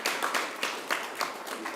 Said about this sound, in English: Round of applause for our grantees.